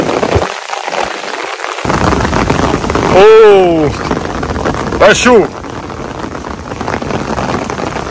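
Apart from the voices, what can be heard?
heavy rain falling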